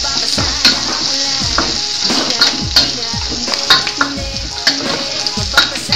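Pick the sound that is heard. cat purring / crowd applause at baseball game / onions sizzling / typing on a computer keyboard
onions sizzling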